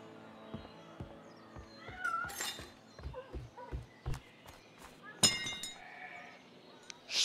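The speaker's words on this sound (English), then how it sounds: "Goddamn cat." In the video game A Way Out, a cat gives a few bleating meows amid clattering game effects and sporadic background sounds, moderately close.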